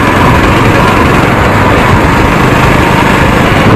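Jawa 42 motorcycle with its 293 cc engine, running steadily and loud throughout, a constant close drone with no talk over it.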